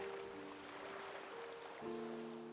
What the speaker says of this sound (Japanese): 波思ったよりこっちまで来たな。